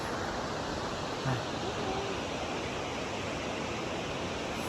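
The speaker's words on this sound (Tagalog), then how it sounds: "There the waterfalls." The waterfall at Grassi Lake makes a steady, even rushing roar that fills the whole clip without a break. A faint voice can be heard under it.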